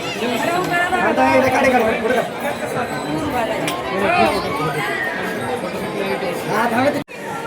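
Dense crowd chatter fills the grounds of the Prati Balaji temple at Narayanpur near Pune, many voices overlapping steadily and loud throughout, with faint clinks, before a brief drop near the end.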